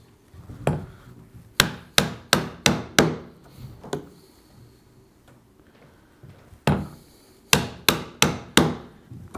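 A chisel being struck to chop through wood for a dovetail joint, sharp close taps in two quick bursts of about five blows each, with a few isolated strikes between them.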